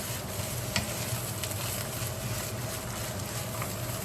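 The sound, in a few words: stirring fried rice in a pan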